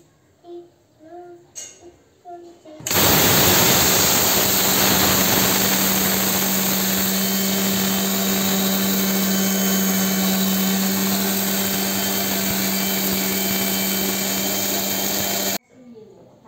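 An electric spice grinder whirs loudly and steadily for about thirteen seconds, grinding whole spices to powder in a home kitchen, starting abruptly after a few quiet moments and stopping sharply near the end.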